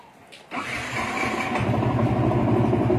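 A Yamaha Vixion motorcycle engine cranks and fires up about half a second in, then settles into a steady, close, rumbling idle that runs to the end.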